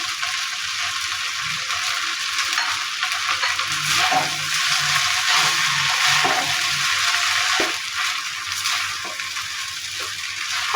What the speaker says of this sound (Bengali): সব কিছু দিয়ে আমি হাই ফ্লেমে এগুলোকে ভেজে নেব